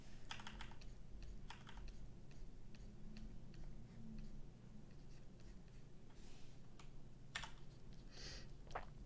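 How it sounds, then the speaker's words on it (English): Computer keyboard keys click in quiet, irregular bursts of taps and short pauses during Photoshop product photo editing, close and faint, with no speech. "So I hit X on my keyboard to alternate between painting with black and painting with white."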